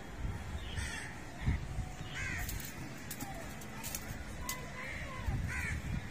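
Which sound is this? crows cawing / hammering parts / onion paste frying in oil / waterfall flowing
crows cawing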